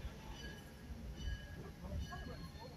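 A heritage passenger train rolls along a historic 1859 railroad line into Chattanooga, giving a steady rumbling ride noise with faint wheel squeals and clatter, heard from on board at low level.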